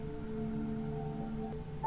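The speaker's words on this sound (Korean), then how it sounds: "그중 단짝이라는 메모가 적힌 번호로 전화를 걸어보는 데이빗" Phone dialing tones in a film as a man calls a number from his wife's contact list: steady electronic tones that hold and shift pitch near the end, faint and alone.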